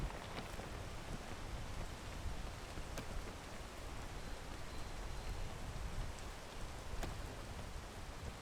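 Steady rain falls throughout a streamed video game, a dense, even hiss with no pauses and a few faint sharp ticks on top, and no voices over it.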